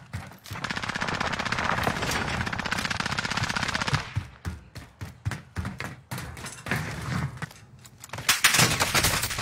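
A player's gun in an online shooter video game fires in sustained rapid automatic bursts, then in shorter choppy volleys, loud and close, with little else audible.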